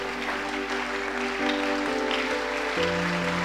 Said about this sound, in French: On se tient debout, on acclame la parole de Dieu.